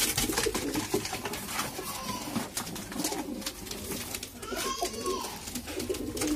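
Pigeons coo in a home loft among paired birds and young, a steady low murmur of cooing with faint background voices and some rustle throughout.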